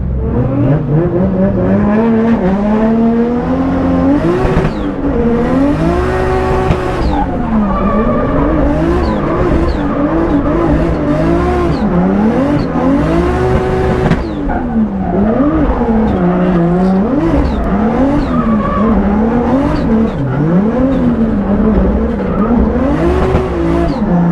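A drift car in a raw drift battle, with a loud engine revving and wavering in pitch as the tires squeal continuously through long slides, close and sustained with no break.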